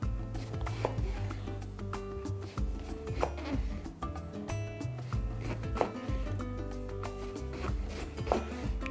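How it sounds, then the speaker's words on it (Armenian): Vegetables for a cauliflower and mushroom dish are chopped into 2–3 cm pieces on a board, a close series of irregular knife knocks with soft scraping between strokes, without talk. "Եվ կտրատում ենք 2-ից 3 սանտիմետր երկարության կտորների։"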